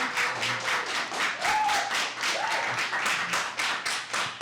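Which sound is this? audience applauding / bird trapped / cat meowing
audience applauding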